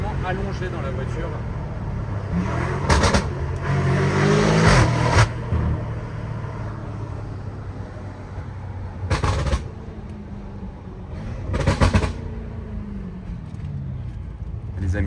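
A sports car engine drones and roars under voices, heard from inside the car, with a few sharp bursts of revving standing out as the vehicle accelerates, fairly close and loud.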